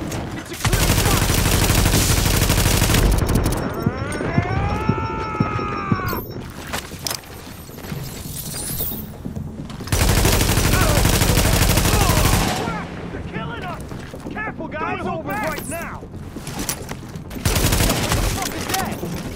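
Gunfire in The Division video game, loud rapid bursts of automatic weapon fire with dense repeated shots, broken by brief pauses and swelling again, with shouting voices mixed in.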